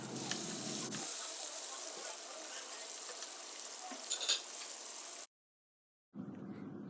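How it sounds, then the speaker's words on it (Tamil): Chicken pizza bases fry in hot oil in a pan, giving a steady, close crackling sizzle that cuts out briefly near the end before resuming. "ஆயில் ஹீட் ஆனதுக்கப்புறம் இந்த சிக்கன் பேஸை நம்ம ஒன்று ஒன்றா போட்டு பொரித்து எடுத்துடலாம்."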